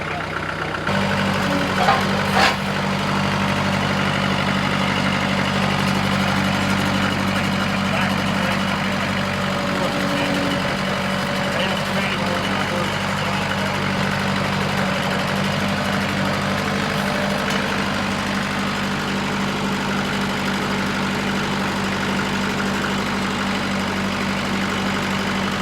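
A tractor with about 5,000 hours on it idling steadily for a long stretch, a loud, constant low diesel rumble with no changes in pace, no voices.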